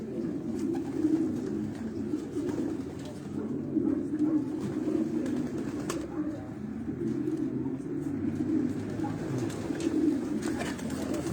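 Low, continuous racing pigeon cooing close by at a loft in Quetta, a soft rolling murmur that persists throughout with a few faint clicks over it.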